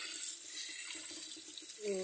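A glass of rice being rinsed under running tap water in a kitchen sink, a steady hissing flow with soft splashing and grains shifting, and a voice briefly starting at the very end.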